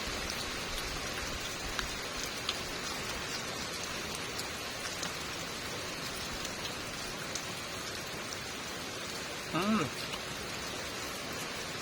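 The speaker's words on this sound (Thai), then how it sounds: "ฝนตกแล้ว" Steady, dense rainfall pattering on surfaces all around, continuous and even from start to finish, with a brief faint voice near the end.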